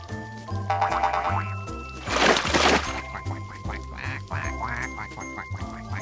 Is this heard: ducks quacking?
yes